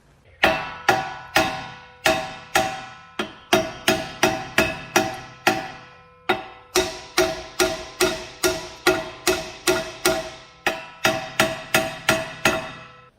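A hammer strikes a seized rear brake caliper pin on a 2005 Buick Park Avenue in quick repeated bursts of sharp metallic taps. The blows are close and loud, with short pauses between runs.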